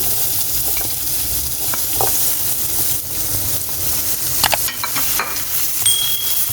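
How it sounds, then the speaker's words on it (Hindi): Finely chopped onion, about two tablespoons, sautés gently in a pan as the base of a white sauce for chicken steak, giving a steady low sizzle with occasional stirring clinks and scrapes. "इसको हल्के से सौते करेंगे कि प्याज का सिर्फ कलर चेंज हो जाए।"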